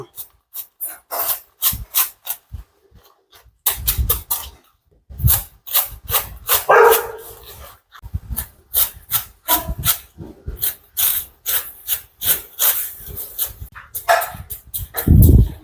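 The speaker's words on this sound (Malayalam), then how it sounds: "നമുക്ക് ആദ്യം ഇലേനെ അങ്ങ് കൊത്തിയരിയാട്ടോ" Rapid, sharp chopping strikes of taro leaves on a board come in irregular bursts with short pauses, close and fairly loud.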